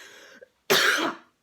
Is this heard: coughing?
yes